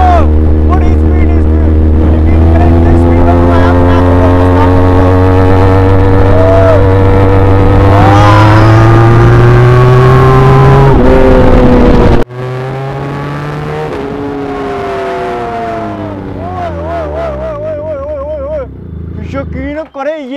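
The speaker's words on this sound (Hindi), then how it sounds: "अब देखता हूँ मेरी बाइक कहाँ तक जाती है।" A motorcycle runs flat out during a top speed test, its loud engine droning with rising pitch, then dropping sharply as the gear shifts. The engine climbs again with wind rush close by.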